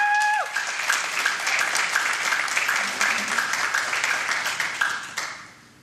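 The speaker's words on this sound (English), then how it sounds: "So give her a warm round of applause to our special guest interview, Mel." Studio audience on a morning show applauding a special guest: brisk, full clapping with some cheering that holds steady for several seconds, then tapers off quickly at the end.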